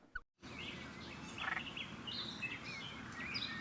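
Robin singing outdoors: faint, scattered chirps and warbles over a constant low rumble of background noise, distant rather than close.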